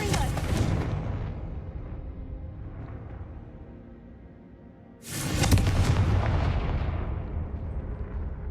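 Two loud, sharp explosions from the Confringo blasting spell in a Harry Potter video game, the first right at the start and a second, bigger blast about halfway through, each trailing off in a rumbling decay.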